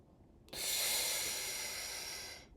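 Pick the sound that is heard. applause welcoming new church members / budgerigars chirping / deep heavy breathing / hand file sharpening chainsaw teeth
deep heavy breathing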